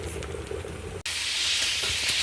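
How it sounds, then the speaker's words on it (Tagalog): Galunggong fish sizzle in hot frying oil, a loud, steady hiss that starts abruptly partway through and continues without pause after a stretch of kitchen background noise. "nagpiprito na tayo ng galunggong"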